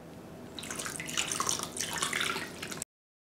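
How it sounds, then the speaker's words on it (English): Half a glass of water poured from a glass into a cooking pan with cubed onion and cognac, a steady splashing pour lasting a few seconds, close and fairly quiet, ending abruptly. "and a half a glass of water."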